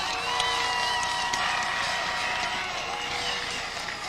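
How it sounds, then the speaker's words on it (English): Football crowd noise from the Everett side at a 2004 Brockton vs Everett high school Super Bowl game, a steady, broad roar of many voices that holds at an even level throughout, with no single voice standing out. "So the crowd's making some noise here on the Everett side."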